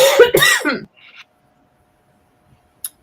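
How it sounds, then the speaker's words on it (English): A person coughs and clears their throat from heartburn, a couple of short rough bursts close to the mic, followed by near silence and a faint click. "I got heartburn. It's making me cough."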